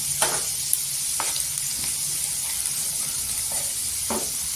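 Garlic frying golden in a pan as turmeric powder goes in, a steady close sizzle with a few scrapes and stirs.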